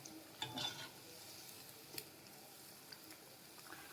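Raw banana bajjis deep-fry in hot oil on a medium flame, giving a soft, steady sizzle with a few louder crackles and light stirring clicks close by.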